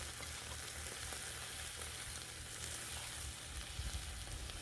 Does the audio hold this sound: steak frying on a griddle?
yes